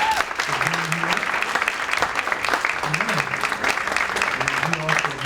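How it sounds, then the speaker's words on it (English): Audience applause for State Representative Reginald Bolding of District 27 at a university speaker series, a dense steady clapping that fills the room throughout, with a voice talking over it at moments. "So let's give him a round of applause."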